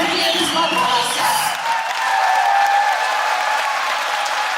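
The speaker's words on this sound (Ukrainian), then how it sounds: "Ваши аплодисменты!" An audience in a concert hall in Oryol bursts into loud, sustained applause after a folk song, dense clapping and some cheering filling the space evenly throughout.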